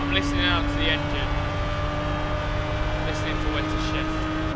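A Ford GT in the Gran Turismo 5 racing game drones at high revs at top speed, a steady loud engine tone with a few brief shifts in pitch, and faint speech-like sounds at moments.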